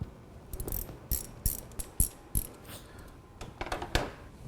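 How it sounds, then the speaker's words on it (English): A ratchet works loose the two screws on a 2002 Ford Focus fuel pressure regulator, giving close, irregular bursts of sharp clicking, about eight short runs with brief pauses between them and no talking. "Let's go ahead, loosen our 2 screws."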